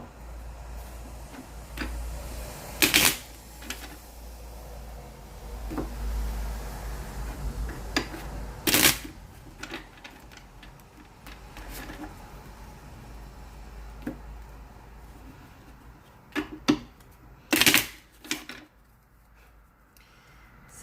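Tarot cards handled and drawn from a deck, scattered soft taps and a few sharper slaps and flicks over a low steady hum, close and fairly quiet, no talking.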